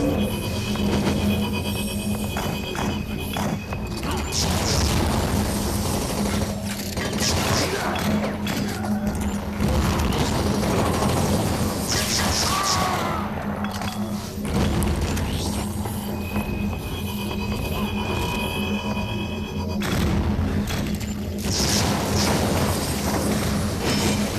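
Zeus blade premium weapon attacks in Blitz Brigade, a dense, continuous wash of game effects with repeated crashing, mechanical swipes and thuds throughout, loud and unbroken.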